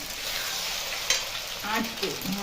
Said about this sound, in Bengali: আর আলুর সঙ্গে এরকম ভালো করে ঘুরিয়ে ঘুরিয়ে মিশিয়ে ভেজে নেব।